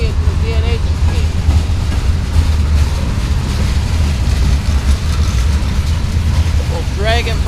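A freight train with dragging brake shoes rolls past on Pan Am Railways track at North Adams, Massachusetts. A loud, continuous rumble carries faint metallic squeals that rise near the end.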